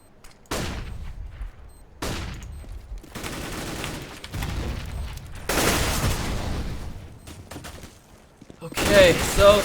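Gunfire rattles through a Counter-Strike match on the Dust 2 map, with repeated bursts of rapid shots and sharp single cracks separated by brief pauses, loud and close.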